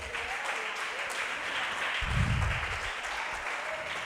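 Church congregation breaking into applause during a Wednesday faith service, a steady broad wash of clapping that swells in the middle and carries on throughout, filling the room.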